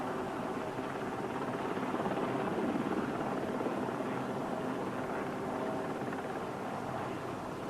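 A helicopter's steady, heavy rotor roar fills the whole stretch, loud and constant with no pauses, as helicopters rescue men from the water under black smoke at Bluff Cove, Fitzroy.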